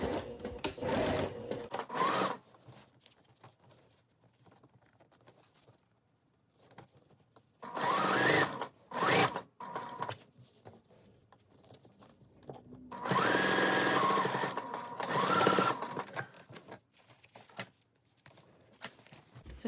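A sewing machine stitches the seams of reversible shorts with a half-inch seam allowance, running in several bursts of rapid whirring stitching separated by quiet pauses, with the longest run near the end.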